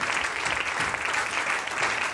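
A church congregation claps together in a dense, steady burst of applause that fills the room evenly, with no voices rising above it.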